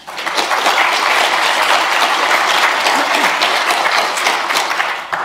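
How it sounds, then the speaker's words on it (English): Loud, sustained audience applause fills the room at a privacy-by-design talk, dense clapping holding steady for about five seconds before tapering at the end. "So please give a big round of applause for Heather."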